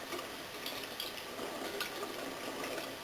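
Paint brushes rinsed under a running tap, a steady soft stream of water splashing continuously at a moderate distance, with no talking.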